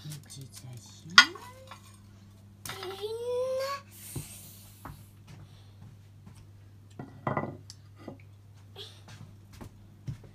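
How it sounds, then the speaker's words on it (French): Dishes and cutlery being set out on a breakfast table, with scattered clinks and clatters of plates and utensils, quiet gaps between them and brief voices, including a child's, in the background. "t'apprends à mettre la table du petit déjeuner"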